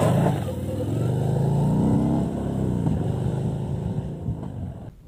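Harley-Davidson FXDR 114 power-cruiser motorcycle engine, a loud, close, continuous deep rumble and rev that holds steady for about five seconds before cutting off abruptly at the end.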